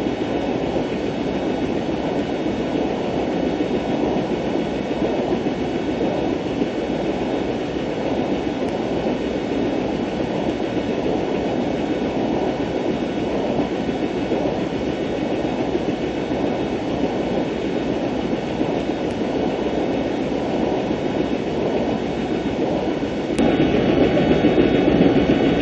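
Submarine diesel engine running in the PC game Silent Hunter II (2001), a steady dense mechanical drone and rumble with even loudness throughout, shifting slightly in tone near the end, with no talking.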